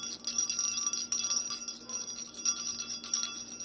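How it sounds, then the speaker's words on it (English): A bunch of small jingle bells shaken continuously, bright metallic jingling in repeated bursts, close and alone with no voices. "So let's see how loud these bells are."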